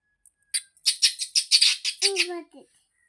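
A small child imitates a parrot with a quick run of high, squeaky chirps and squawks, ending in a short higher-pitched cry.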